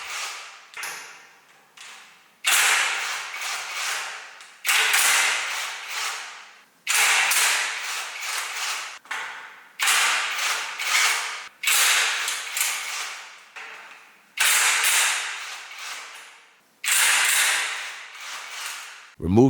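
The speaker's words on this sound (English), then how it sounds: "Use a size 5 hex screw to loosen the screws." Size 5 hex tool loosening screws on the frame of an Arctic Leopard XE Pro R gaming chair: repeated close bursts of rasping, creaking mechanical turns, each lasting about two seconds with brief pauses between.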